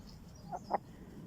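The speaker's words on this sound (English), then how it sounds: "Oh dear, the chicken." A chicken gives two short, soft clucks close by in a garden, over a steady outdoor background hum.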